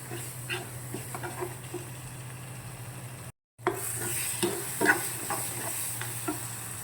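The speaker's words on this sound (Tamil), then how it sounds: "இது எல்லாத்தையும் நல்லா சேர்த்து மிக்ஸ் பண்ணி விடுங்க." A spoon stirs a sambar powder and turmeric mixture in a frying pan, with soft scraping strokes over a steady low sizzle, close and moderately quiet, with no talking.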